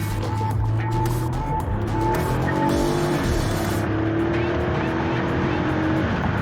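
A Toyota Camry accelerates on dirt with a steady engine roar and rumbling tire noise. The sound is loud and close throughout, with a slight shift in tone partway through.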